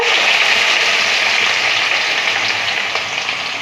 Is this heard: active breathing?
no